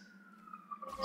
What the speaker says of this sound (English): There's some sirens going by outside my place.